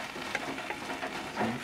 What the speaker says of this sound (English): So you're toasting the coconut in the spice paste as well